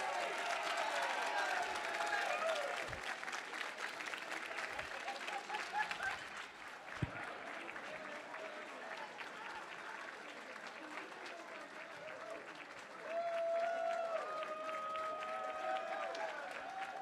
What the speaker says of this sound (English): So again, a big round of applause.